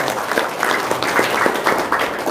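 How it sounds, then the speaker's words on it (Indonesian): An audience applauds for a couple of seconds, a dense, even patter of many hands clapping at moderate level. "tepuk tangan dong"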